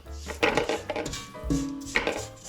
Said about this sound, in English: I'm just going to scrape the sides just to get that flour off